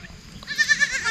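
A goat in a forest herd gives a close, loud, wavering bleat with a quick pulsing vibrato, rising out of soft background rustle.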